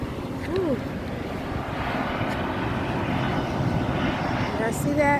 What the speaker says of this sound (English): I see that airplane coming in.